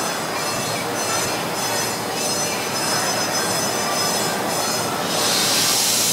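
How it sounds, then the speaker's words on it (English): A small amusement park train at Busch Gardens Williamsburg rolls steadily on its rails toward Festa Italia with a constant rumble and a persistent metallic squeal, loud and close, with no talking. "All aboard as we make our way to Festa Station."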